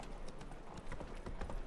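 Horse hooves clip-clop steadily at a walking pace on city streets in The Witcher 3, a continuous rhythmic clatter of moderate loudness with no voices over it.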